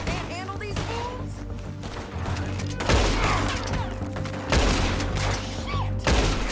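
Gunfight in Red Dead Redemption 2, with loud sharp shots cracking out at irregular intervals over a rumbling backdrop, under shouted dialogue between characters.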